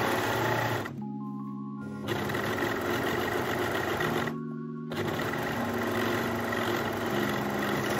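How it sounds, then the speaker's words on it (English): A serger overlocks the shoulder and side seams of an off-shoulder dress, running in steady loud bursts of whirring stitching with two short pauses between runs. "now we're gonna serge the shoulder seams, the right side seams separately, front and back, and the sleeve seams"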